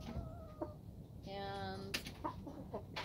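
A rooster crows once, a clear drawn-out call in the middle of soft background noise and brief clucking sounds, fairly close but not loud.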